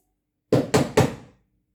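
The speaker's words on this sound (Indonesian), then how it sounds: "Tiba-tiba ada suara ketukan pintu." Three firm knocks land on a wooden door at night, evenly spaced and close, each a hollow thud in an otherwise silent room.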